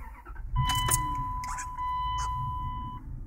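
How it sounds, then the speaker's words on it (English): A 1999 Dodge Durango that shuts off randomly cranks and starts, then settles into a low steady idle close by, with a chime tone sounding over the engine. "let me turn on the car, keep it running."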